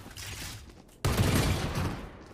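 Gunfire in the tactical shooter Valorant during a ranked match: a sudden loud burst of shots erupts after a quieter second and carries dense, sustained firing to the end.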